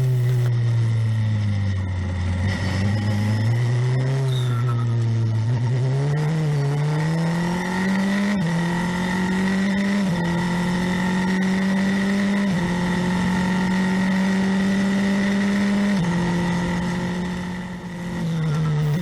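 An F4 race car engine roars through a night street race, holding a steady high drone with pitch rising and settling through gear changes, loud and continuous with no talk.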